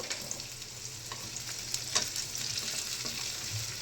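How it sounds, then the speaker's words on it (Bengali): Boiled potatoes dropped into a pan of well-fried onions sizzle steadily while being stirred for fried rice, a constant close crackle with occasional scraping clinks and no voices. "বয়েল আলু দিয়ে দিলাম"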